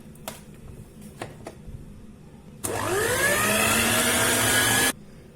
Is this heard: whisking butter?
yes